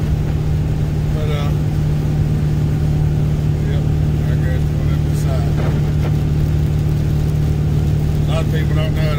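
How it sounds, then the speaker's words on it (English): A car driving on a highway at about 69 mph gives a steady, loud road and engine drone with constant tyre and wind noise, while someone talks over it. "We're just rolling along about 69 miles an hour, somewhere around in there."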